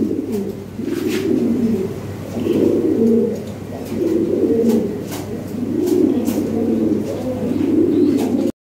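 Lahori pigeons coo in a steady, rolling series of low throaty calls, several birds overlapping close by, with a few faint chirps above a constant low hum.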